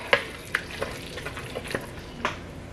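A spoon works through a creamy mixture in a frying pan, making a few scattered scrapes and taps over a soft, steady sizzle. It sounds close and moderately quiet, with no talking.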